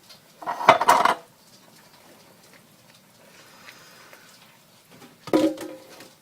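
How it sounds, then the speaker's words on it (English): Chili mac ingredients, kidney beans included, are stirred in a skillet: a loud burst of utensil scraping and clinking against the pan, a quiet pause with faint background, then another clattering stir, close. "You want to stir this all well."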